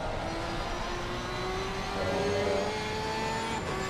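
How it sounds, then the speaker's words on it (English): Ferrari GT race car engine in a GT Europe racing video game at the Zolder circuit, a steady droning engine note with rising pitch held throughout, no talk over it. "Okay, you're hearing the Ferrari. Pay close attention to the engine noise"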